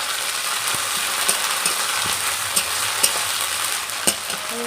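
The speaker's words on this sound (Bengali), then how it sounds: "আদা দিয়ে অল্প একটুখানি নেড়ে নেব" Onions and ginger paste fry in a pan with a steady, moderate sizzle, while a utensil scrapes and taps against the pan as it stirs, giving a few light knocks.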